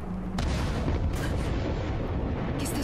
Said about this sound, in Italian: Che bella l'esplosione a 4 frame al secondo che è appena avvenuta